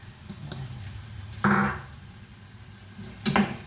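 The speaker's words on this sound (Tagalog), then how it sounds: "Halo uli para masama-sama ang lasa." A spoon stirring a cooking pot with bay leaves and whole peppercorns, producing a few close metallic scrapes and clinks, with one stronger clatter in the middle and another near the end, over quiet kitchen background.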